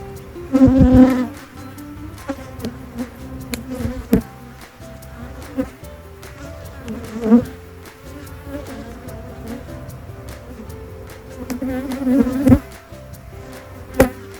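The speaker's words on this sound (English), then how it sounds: "I am getting some headbutting from these bees" Honeybees buzz in a dense, continuous drone around an open hive during an early June inspection, with louder swells as individual bees fly close past, plus a few sharp knocks and taps.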